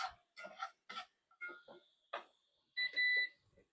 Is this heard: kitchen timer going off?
yes